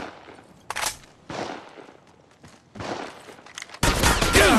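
Gunfire in the mobile battle royale game Apex Legends Mobile comes as scattered bursts of rapid shots, with a louder, denser volley near the end.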